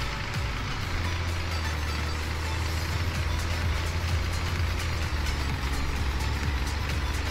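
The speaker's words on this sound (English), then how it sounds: "We're gonna beat the old tractor up running through the field here this time." A tractor in Farming Simulator 17 runs steadily through a field, its engine a continuous low drone with a constant hum, no voices over it.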